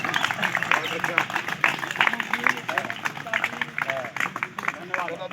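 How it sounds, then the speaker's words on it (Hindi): A group claps at an outdoor yoga session in Munger with a central agriculture minister present, a dense patter of hands running throughout under overlapping voices and crowd chatter. "जो प्रयास कर रहे हैं उनके लिए भी ताली बजे"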